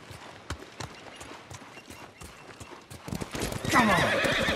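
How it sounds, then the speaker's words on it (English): Horse hooves clip-clop in a steady rhythm in the Ghost of Tsushima video game, building to a loud, close whinny near the end over soft ambient game sound. "You're a good horse, Nobu"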